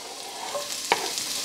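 Diced onion sautés in melted fat in a pan over medium heat, producing a steady close sizzle with one sharp utensil clink midway and light stirring.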